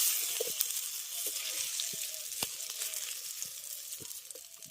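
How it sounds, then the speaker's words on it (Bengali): Small pieces of dhoka lentil cake frying in oil in a pan, a steady bright sizzle with scattered soft pops and clinks. "আমি পিস করে এইভাবে ছোট ছোট টুকরো করে কেটে নিয়েছি সেগুলোকে ভেজে নিচ্ছি"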